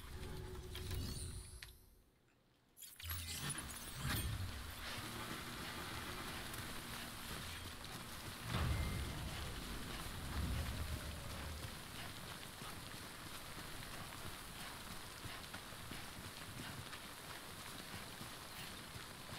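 Steady rain from the video game Death Stranding, a dense hiss that fills the scene almost throughout, with a brief drop-out early on and a few soft thuds underneath.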